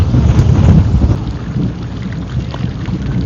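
Thunder rumbles low and loud at sea during a rainy fishing trip, with rain pattering continuously under it and some wind noise.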